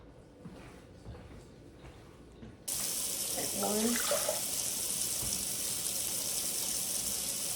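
A kitchen faucet suddenly turns on and runs warm water in a steady, loud gush for focaccia dough, after a quiet stretch with faint voices in the background.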